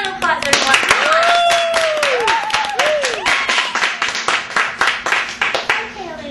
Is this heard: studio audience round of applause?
yes